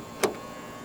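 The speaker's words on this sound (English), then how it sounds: "To lock the car, press the ribbed area on the driver's side door handle." A 2020 Toyota Corolla 1.8 G locking by keyless touch on the driver's door handle: one short, crisp mechanical clunk from the door lock, then a faint trailing click in a quiet outdoor setting.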